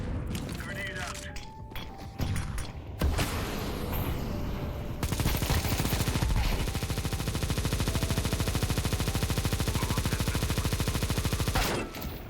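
Negev machine gun firing in a video game, a long unbroken burst of rapid shots at close range that runs loud and steady for several seconds and then stops, with scattered game noises and movement before it starts.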